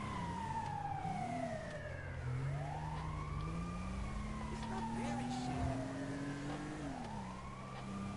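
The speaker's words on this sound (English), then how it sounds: "Oh, that's the ambulance." Ambulance siren in a Grand Theft Auto game on PS4, a wailing tone sweeping up and down repeatedly over a steady engine rumble and traffic noise, fairly prominent throughout.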